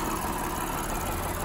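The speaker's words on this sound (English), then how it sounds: "famous V6 engine by Lexus." A 2015 Lexus GS 350 F-Sport's V6 engine runs at a steady idle, a brief, continuous, even hum heard close up under the hood without any talking.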